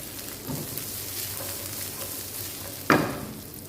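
Sliced onions and green chillies fry in a pan for chilli chicken gravy, a soft continuous sizzle with faint stirring scrapes and one sharp utensil knock near the end, close by.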